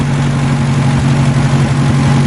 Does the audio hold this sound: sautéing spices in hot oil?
no